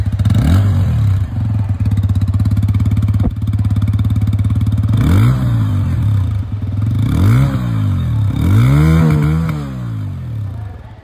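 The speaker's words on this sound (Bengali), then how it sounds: "এবার প্রতিটা বাইকের মতন এখানের যে এক্সস্ট সাউন্ড সেটাও আপনারা শুনে নিন" Exhaust of a TVS Apache RTR 160 2V motorcycle with a metallic muffler cover: a loud, close idle thrum broken by several sharp throttle blips that rise and fall in pitch.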